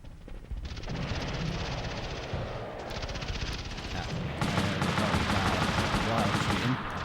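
Mortar blasts and rattling gunfire in the video game Army Men: Land, Sea, Air on PlayStation, dense continuous automatic fire and booms that grow louder and heavier in the second half.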